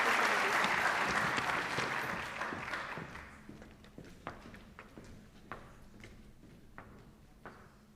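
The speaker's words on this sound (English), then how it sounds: "give a warm round of applause to Brianna Eag" Warm audience applause for a graduating senior at Monona Grove High School Senior Recognition Night swells loudly, then fades over several seconds into a few isolated claps.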